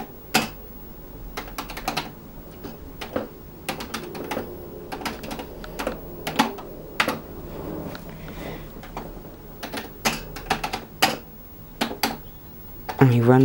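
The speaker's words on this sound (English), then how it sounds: "you would type in a program." Keys clatter on a Commodore computer keyboard as a program is typed in, irregular bursts of sharp clicks close by, with pauses between runs and a brief low thump at the end.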